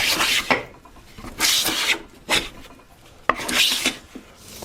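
A No. 4.5 hand plane is pushed along a pine board, making four or five close, rasping shaving strokes, each a bright swish followed by a short pause.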